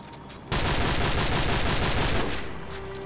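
Automatic gunfire in the shooter Call of Duty 4: Modern Warfare, a loud sustained burst of rapid shots starting abruptly and running for about two seconds before easing off.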